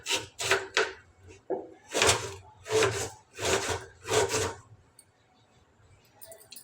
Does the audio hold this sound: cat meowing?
no